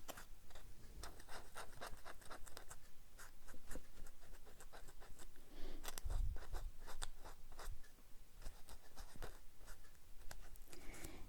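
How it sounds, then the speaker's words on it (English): Paper being re-inked around a small thumb hole, giving a steady stream of close, quiet scratchy strokes and rubbing that repeat in quick bursts without pause. "And we're going to re-ink this little thumb hole area."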